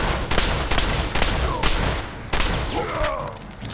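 Loud, sharp rifle shots from a specialty rifle in the video game Fallout 4, fired repeatedly in an irregular rhythm with booming echoes and a whooshing tail between shots, close and punchy.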